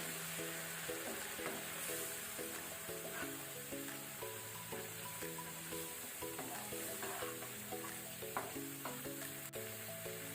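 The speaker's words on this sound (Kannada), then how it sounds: "ಟೊಮೆಟೊವನ್ನು ಸಹ ನಾವು ಒಳ್ಳೆ ರೀತಿ ಫ್ರೈ ಮಾಡ್ಕೊಳ್ಬೇಕು" Tomato paste fries on a medium flame for rajma masala, giving a steady, close sizzle that runs throughout. A melodic tune plays underneath and no one speaks.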